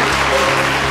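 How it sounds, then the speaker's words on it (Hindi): Audience applause welcoming a chief guest at a stage event, a dense steady clapping that fills the whole second at close, even loudness. "और आप सब इनका जोरदार तालियों से स्वागत कीजिए।"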